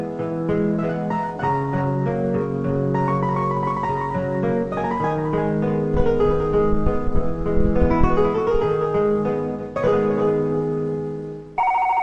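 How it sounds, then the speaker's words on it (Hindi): A telephone rings with a melodic electronic ringtone, a steady repeating tune of bright tones that plays loud and alone for about twelve seconds. "क्यों ना कैलाश को फोन करेंगे?"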